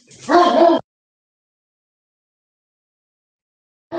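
A dog barks in a short, loud, close burst, falls silent, then starts another bark at the very end.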